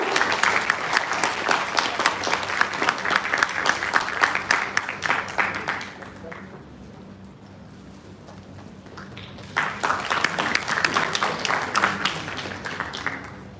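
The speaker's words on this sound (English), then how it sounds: "Please give a very big round of applause." Applause from the audience at a felicitation ceremony at a college biotechnology event, loud sustained clapping that fades to near quiet midway, then swells again with renewed vigorous claps.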